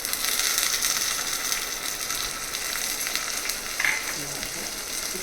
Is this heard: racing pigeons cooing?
no